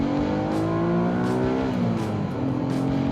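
A 1992 Acura NSX revs hard under acceleration, its engine note climbing in pitch through successive gear pulls, loud and close with a steady rushing background.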